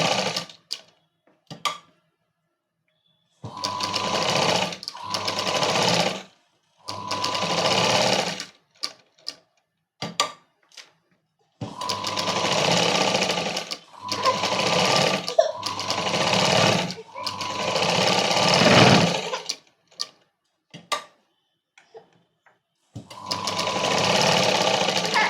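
A sewing machine runs in repeated bursts while stitching a princess cut blouse, stopping and restarting several times with short pauses between runs, close and fairly loud.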